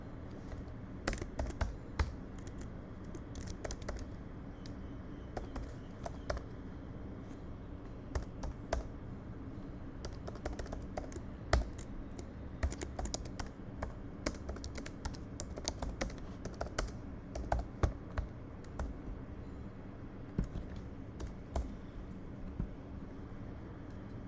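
Steady, close computer-keyboard typing while writing code, with irregular keystroke clusters and brief pauses spread through a long stretch over a low background hum.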